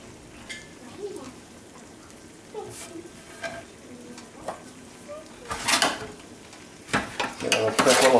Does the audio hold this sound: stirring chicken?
yes